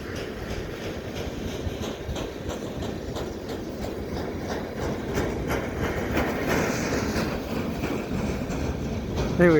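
A long train passes nearby at Pointe St. Charles, Montreal, in winter, a steady clattering roar with rhythmic wheel clicks that grows slightly louder toward the end.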